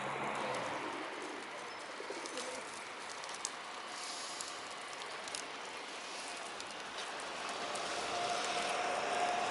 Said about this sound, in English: So these are some of Boscombe pigeons